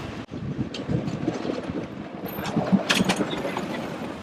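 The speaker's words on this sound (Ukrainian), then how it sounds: "ось і відомий трамвайчик Сан-Франциско" San Francisco's famous cable car tram rolls past with a steady rumbling clatter and rail noise, mixed with gusty wind, continuous and moderately loud, with no voices.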